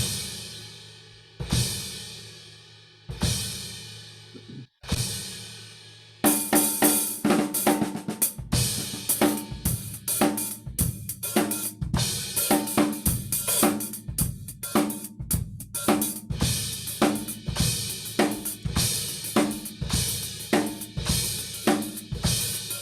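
Several loud cymbal crashes from a drum swipe come first, then the kit breaks into a dense, driving groove with a bass drum kick under each note. The hits repeat fast and heavy throughout.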